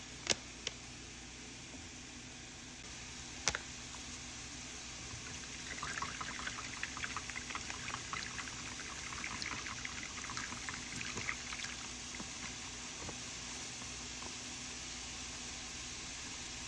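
Tap water poured into a pot for packet gravy, a steady soft hiss of running water that starts partway through and continues at moderate level, with a few clanks of a utensil on cookware early on and no talk.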